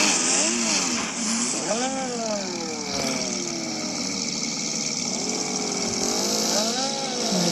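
A car in the mobile game Car Parking Multiplayer revs and accelerates, its engine pitch rising and falling through repeated gear sweeps under a constant background hum.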